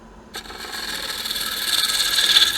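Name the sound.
roughing gouge cutting wood on a lathe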